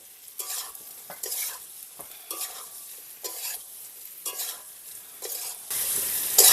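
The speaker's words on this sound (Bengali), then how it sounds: "মিনিট 2 সময় ধরে আলু এবং এঁচড়টাকে ভালো করে কষিয়ে নিতে হবে" Potatoes and jackfruit are stir-fried in a pan with a steady soft sizzle, while a spoon scrapes and stirs in a regular rhythm of repeated strokes, close and moderately quiet.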